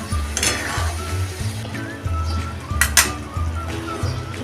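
Raw mango fenugreek pickle with jaggery is stirred in a hot pan, with a soft sizzle under a steady rhythm of scraping spoon strokes and occasional light clinks against the pan.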